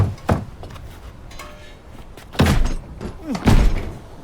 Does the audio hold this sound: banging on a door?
yes